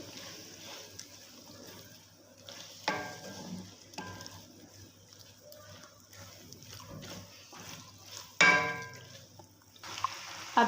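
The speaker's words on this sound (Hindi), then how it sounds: "एक से 2 मिनट हम इसको मसाले में भून लेंगे।" Shredded boiled meat fried in masala in a pan for shahi chana, a soft sizzle with a few sharper scrapes and stirring bursts.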